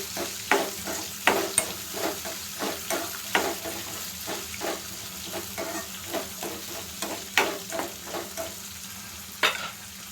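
Onions frying in a pan with a steady sizzle, stirred by a utensil that scrapes the pan in repeated strokes, close and moderately loud with no voices.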